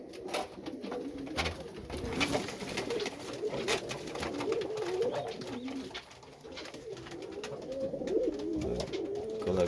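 Domestic pigeons coo in a loft with soft, rolling calls that overlap and continue throughout, close and moderately loud, without any speech.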